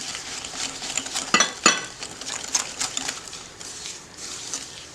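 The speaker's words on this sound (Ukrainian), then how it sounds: "шкірка апельсина і гарно ось так все перемішуємо" Spoon stirring sugar and orange zest with other biscotti ingredients in a bowl, giving irregular scraping clinks with a few sharper knocks against the sides, close and moderately loud with no talking.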